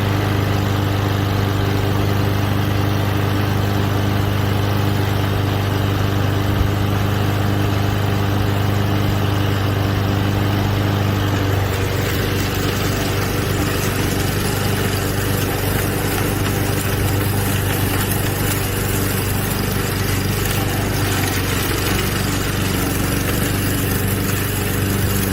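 A small 200cc walk-behind lawn mower engine runs steadily throughout, cutting tall grass with a loud, continuous drone close by that roughens midway as the load changes.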